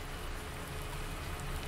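Steady rain falls across a farm scene in a farming simulation game, a dense, continuous hiss of drops without a break and with no talking over it.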